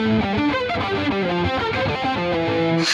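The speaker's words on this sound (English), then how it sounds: "once most guitar players have to play something quite fast with alternate picking, that involves a lot of uncomfortable string skipping and unusual patterns." Fast, sloppy alternate-picked electric guitar line with awkward string skipping, played through a distorted, effected tone in a dense, continuous stream of uneven notes.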